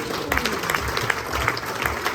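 Dinner guests at an anniversary celebration clap for someone who imitated a wild boar, a dense, continuous roomful of applause with a low rumble underneath.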